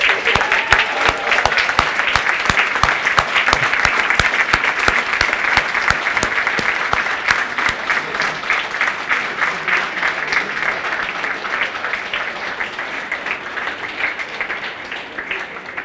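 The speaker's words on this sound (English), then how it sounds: "I'd like to give you a round of applause" Sustained applause from a large audience as alumni stand at an anniversary celebration, a dense, steady wash of many hands clapping at full volume that thins slightly toward the end.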